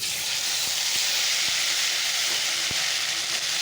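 Mustard and green chilli paste for a Bengali fish curry sizzles in a hot pan as a loud, steady hiss that runs unbroken throughout.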